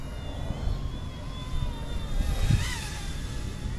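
An Eachine E120 toy RC helicopter flies at full throttle outdoors, giving a steady, continuous motor and rotor whine in the air throughout, with wind noise underneath and no talking.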